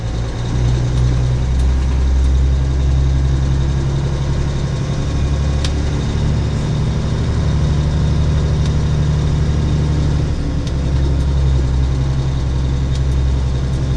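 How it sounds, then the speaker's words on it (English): A truck engine idles steadily and loudly nearby in a driveway, a deep continuous rumble holding even for the whole stretch with no voices over it. "I got a truck."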